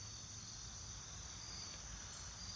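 Steady, dense insect chirring fills the air, a continuous high buzzing drone with no pauses, fairly quiet and unbroken throughout.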